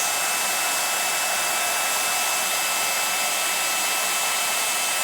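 A handheld craft heat tool melts embossing powder on a card, giving a loud, steady, close blowing whoosh that holds an even pitch throughout.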